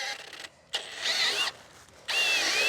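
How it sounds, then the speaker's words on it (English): Power drill boring holes for the pile base of a 3x3 m garden room, heard as several loud, steady whining bursts separated by short pauses, close by with no talk. "I'm going to drill them all."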